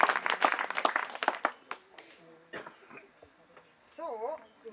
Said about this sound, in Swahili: Makofi kwa deputy.